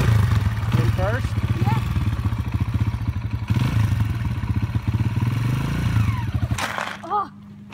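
A Kawasaki KLX 140 dirt bike engine rumbles steadily and close through low gears, with a rattling, pulsing idle-to-throttle sound that cuts off near the end, while people talk over it outdoors in cold weather.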